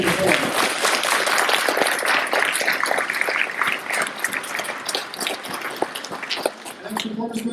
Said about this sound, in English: one more big round of applause for Ashley McCullum.